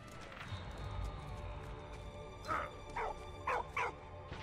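A dog in the Valiant Hearts video game gives several short, sharp barks and yips in quick succession, moderately close, over a rumbling game background.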